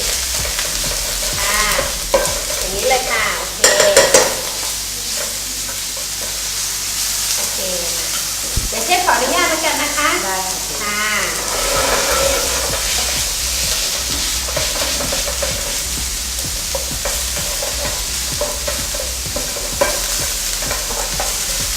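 Meat stir-fried in chili paste in a pan for Thai nam phrik, with steady close sizzling and repeated scraping stirs, a few brief voices in the background.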